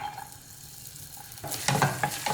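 Chopped ginger dropped into hot oil in a kadai, starting as a quiet hiss and then bursting into louder crackling sizzle with stirring and scraping clatter toward the end, close up.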